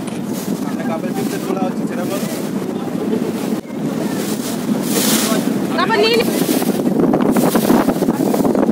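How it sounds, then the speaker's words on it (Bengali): A passenger launch rolls on big waves in the Sundarbans: rushing water and heavy wind buffeting fill the whole stretch, loud and continuous, with voices talking underneath. "মারাত্মক লেভেলের ঢেউ আর মারাত্মক লেভেলে কিন্তু লঞ্চ এবার দুলছে"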